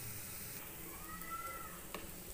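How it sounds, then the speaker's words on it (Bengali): Carrots fry with a little salt in a pan, giving a soft, steady sizzle and hiss at low level, with a faint tonal whine drifting through and a brief click near the end. "সামান্য নুন দিয়ে গাজরটাকে আমি ভেজে নিচ্ছি"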